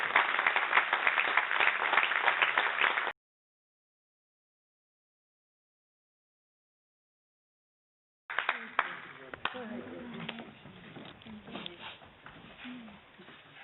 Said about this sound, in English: So let's keep the round of applause for the winners in the under-18 section.